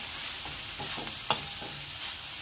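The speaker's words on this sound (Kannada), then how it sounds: "ತೆಂಗಿನಕಾಯಿ ತುರಿ ಹಾಗೆ ಕೊತ್ತಂಬರಿ ಸೊಪ್ಪು ಎರಡು ಸೇರಿಸ್ಕೊಳ್ತೀನಿ ಇದನ್ನು ಸ್ವಲ್ಪ ಚೆನ್ನಾಗಿ ಫ್ರೈ ಮಾಡ್ಕೊಳ್ಳೋಣ" Grated coconut and coriander leaves frying in a pan give a steady, soft sizzle with faint stirring scrapes and one sharp clink partway through, close and without speech.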